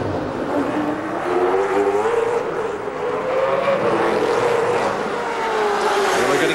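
Trans Am Series race cars battling on the Houston street circuit in 2001, engines roaring loud and close with rising and falling revs as several cars run together through corners.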